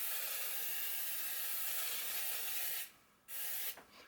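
No-stick cooking spray hisses into a long covered baker before a loaf of beer bread goes in: one steady close spray of nearly three seconds, a brief pause, then a second short burst.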